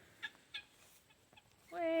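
Guinea fowl give a few sharp calls at a short distance, then a louder harsh cry rises at the end, set against a quiet yard outdoors.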